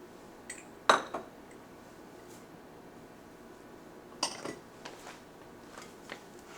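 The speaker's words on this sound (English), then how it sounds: "Now we are going to stir in the 1/2 cup of quick oats and the 1/4 cup of" A spoon stirs quick oats and raisins into cookie dough in a bowl, giving a few sharp metallic clinks in two short bursts with quiet pauses between.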